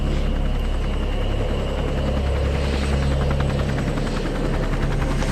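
A Huey helicopter drones steadily with a rapid rotor chop and a low engine rumble, loud and continuous throughout, with no voices.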